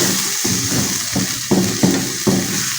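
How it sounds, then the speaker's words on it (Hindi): Fenugreek (methi) leaves frying in a pan at home, a steady sizzle with periodic stirring scrapes every half second or so, close and moderately loud, no voices. "इसको भी हमने 2 से 3 मिनट के लिए फ्राई करना है।"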